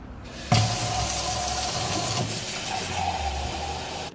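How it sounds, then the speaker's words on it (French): Very hot, almost boiling water gushing from a tap into a container for mixing Egyptian henna, a steady rushing pour that starts abruptly, runs close and fairly loud for several seconds, then cuts off. "je vais venir mettre de l'eau très chaude"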